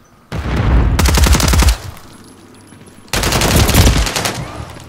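Automatic gunfire from Call of Duty Modern Warfare 3 multiplayer, two loud close bursts of rapid shots, the first about a second and a half long, the second after a pause, with quieter game ambience between them.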